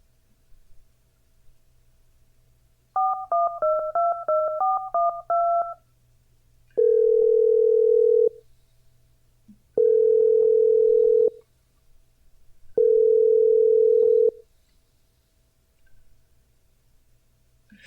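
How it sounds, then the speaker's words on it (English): Quick rapid dialing tones followed by three long, steady beeps with pauses between, over faint background hiss, like a dial-up call connecting. "like a dial-up calling sound"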